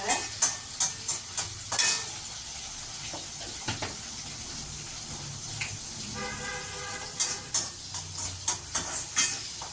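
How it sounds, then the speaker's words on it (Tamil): Onion and curry leaves sautéing in hot oil, a steady close sizzle broken by sharp clacks of a spoon stirring against the pan, in bursts near the start and again toward the end. "கறி லீஃபையும் இதில் போட்டுட்டேன். இதெல்லாம் நல்லா வதங்கணும்."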